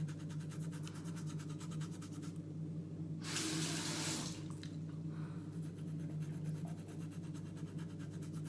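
Tap water runs into a sink to rinse a tongue cleaner, a steady hiss with a louder gush partway through and no talking.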